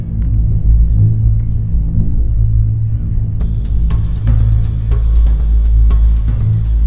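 Low, steady droning hum of a concrete ball sculpture on windy Grímsey Island at night, a continuous deep rumble with wind gusts and scattered sharp crackles in the later part.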